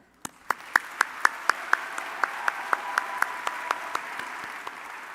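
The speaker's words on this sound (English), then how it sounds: "Now let's give a large round of applause to get them started." Applause at a college convocation, starting as a steady crowd wash with sharp individual claps ringing out regularly above it, then fading away over about five seconds.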